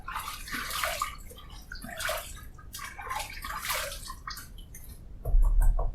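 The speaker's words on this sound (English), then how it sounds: "let me put a little bit of water on my face here" Water splashed onto a face before shaving, close wet splashes and drips in several bursts, then a gurgle and low rumble of running tap water at the end, with no talk.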